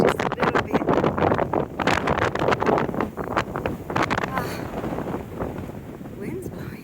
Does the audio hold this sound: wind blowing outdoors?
yes